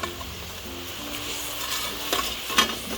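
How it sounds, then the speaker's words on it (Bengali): Pre-fried pangas fish pieces going into a simmering sour-spicy curry, a soft bubbling sizzle with a few clinks and scrapes of a utensil against the pot, no speech. "ঠিক এই পর্যায়ে দিয়ে দেবো আগে থেকে ভেজে রাখা মাছগুলোকে"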